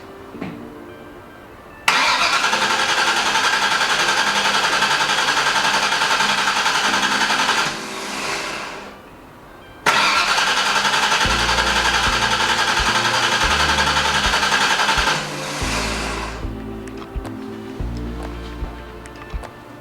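A Shell Valley Cobra replica car engine cranks on its first start attempt: two long bursts of loud, steady starter grinding separated by a short pause, the second ending in a lower, uneven rumble as it tries to catch.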